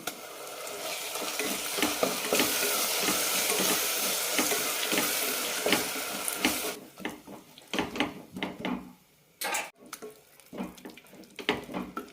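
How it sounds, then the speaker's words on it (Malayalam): Ground masala paste for pudina veg biryani is stirred and sizzling in a hot pan, a loud steady fry for about seven seconds, then quieter scraping stirs and clinks of the spoon. "പച്ചമണം പോകുമ്പോൾ അരച്ചു വെച്ച മസാല കൂടി ചേർക്കാം."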